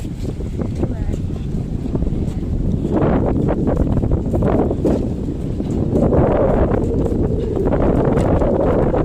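Strong wind buffets the microphone on a boat trip to Koh Kham, a loud continuous roar with surging gusts and water noise, rising louder midway through.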